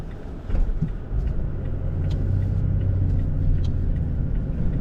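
A 2022 Toyota Tacoma TRD Sport with a manual transmission is driven slowly around a neighborhood, its engine rumbling low and steady from inside the cab and swelling slightly after a brief shift at the start.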